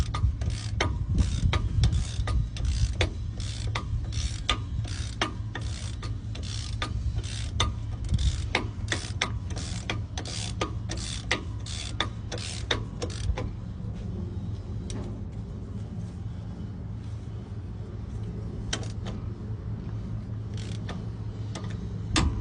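A big rig truck wheel hub spun by hand on a newly installed wheel seal, giving a long run of close, rhythmic mechanical ticks and ratcheting clicks that gradually slow and thin out as the spin winds down.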